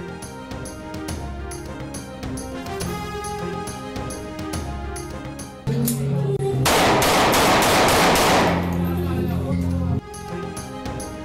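Rapid bursts of gunfire from aerial firing in the Gujjarpura Scheme No. 2 area of Lahore, heard as loud repeated cracking shots with a dense, sustained volley in the middle of the stretch.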